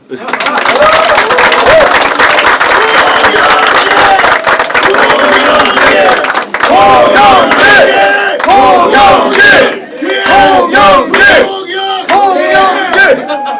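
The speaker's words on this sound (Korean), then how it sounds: "박수 한번 쳐주세요." A large crowd at a political party leadership candidacy rally in South Korea roars and chants loudly and continuously, with shouting voices and some clapping mixed in, dense and close throughout.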